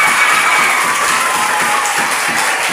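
At a school competition final, a crowd gives a contestant thick, continuous applause, with many hands clapping loudly and evenly and a hint of cheering in the mix.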